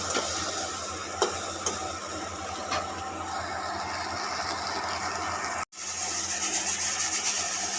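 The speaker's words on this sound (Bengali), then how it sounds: "এদিকে বেগুন ভাজা হচ্ছে" Eggplant slices sizzle steadily in a pan, a continuous broadband fry hiss with a few small clicks and one brief dropout near the end.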